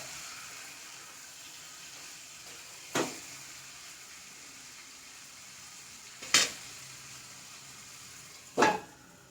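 Kerala-style chicken perattu frying in a pan gives a steady, moderate sizzle throughout, broken by three sharp louder bursts of spattering or stirring spaced a few seconds apart.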